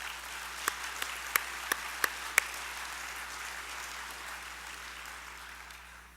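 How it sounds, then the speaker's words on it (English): Conference audience applauding in a large hall, a faint, distant, even wash of clapping with a few sharper isolated claps near the start, fading out toward the end. "Please give Cynthia and her amazing team a round of applause for another superb conference."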